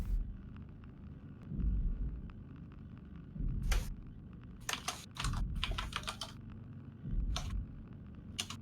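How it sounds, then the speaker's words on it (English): Rapid, irregular clatter of keys on a computer keyboard, with bursts of crisp clicks clustering mid-way and a low rumbling background underneath, fairly close and moderately quiet. "Sorry if I make a lot of typing noises"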